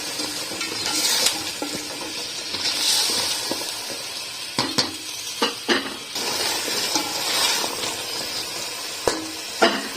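Potatoes and whole spices fry in a pan for a white matar pulao, a loud fluctuating sizzle punctuated by sharp spoon knocks and scrapes against the pan, heard close with nobody talking.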